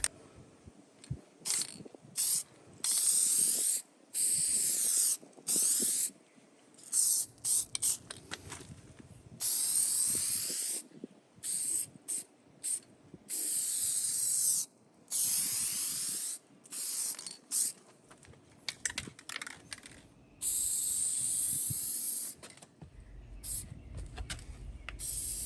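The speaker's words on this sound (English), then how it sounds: "So don't forget to spray at an angle at times to get around all the edges of your molding or badges or whatever it is you're spraying." A Hyper Dip spray can coats a car antenna in repeated short hissing bursts, each lasting one to two seconds with brief pauses and faint clicks between sprays, heard close with no talk.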